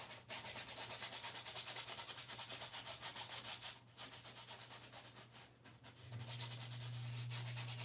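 A brush scrubs oil paint onto canvas in steady, rhythmic rubbing strokes, close but quiet, with a low hum underneath.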